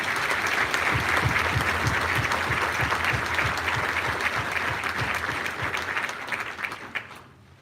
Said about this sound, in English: Let's give our sophomores a round of applause.